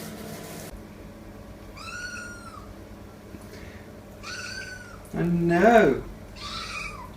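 Several meows from Sabra, a house cat annoyed at a change to her litter toilet, come close and clear, with a louder, rising complaint near the end and a person talking softly between calls.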